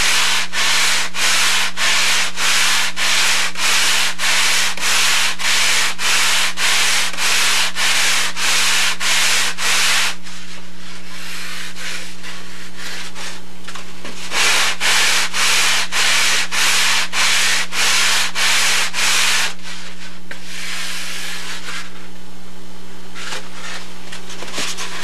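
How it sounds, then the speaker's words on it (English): A model plane wing is pressed against a belt sander in rhythmic back-and-forth strokes, loud rasping passes in two long bursts separated by quieter stretches, over the machine's steady motor hum. "you can go over to the sanding belt, hold the wing 90 degrees to the table"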